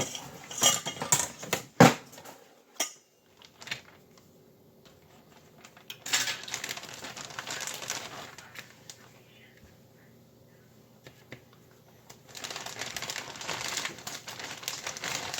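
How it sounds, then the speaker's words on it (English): A knife cuts through fresh broccoli on a cutting board, giving sharp chops and clatters in scattered bursts with quiet gaps. Soft background noise comes and goes. "let's cut our broccoli"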